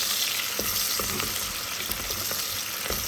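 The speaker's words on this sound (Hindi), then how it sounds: "ये ऑयल गर्म हो रहा है, इसके अंदर हम डालने वाले हैं लहसुन और ये प्याज" Garlic and onion frying in hot oil, a steady loud sizzle with faint crackles and stirring clicks throughout, close up and without any talking.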